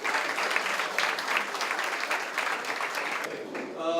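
An audience at a Democratic Party lawmakers' workshop claps together in a sustained, even round of applause, moderately distant, fading out as a voice begins at the very end.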